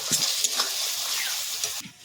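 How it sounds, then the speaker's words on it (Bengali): Tomato paste cooking down in oil for chicken curry, a bright hissing sizzle with a few soft stirring knocks, close and fairly loud, cutting off abruptly near the end. "টমেটো বাটাটা দিয়ে দেব। আর একটু ভালো করে কষিয়ে নেব।"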